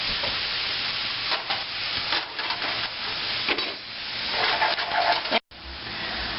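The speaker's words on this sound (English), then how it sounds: "while this is cooking, we're letting these onions and garlic sweat a little" Onions and garlic sauté in a pan for stuffed mushrooms, giving a close, crackling sizzle with scattered stirring scrapes and a brief break near the end.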